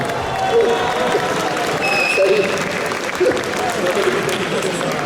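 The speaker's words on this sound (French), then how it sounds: "Un tonnerre d'applaudissements pour POG." An audience applauds and cheers at a classic car show award ceremony in Lyon, a dense, continuous roar of clapping with voices mixed in and a few brief whistles above the crowd.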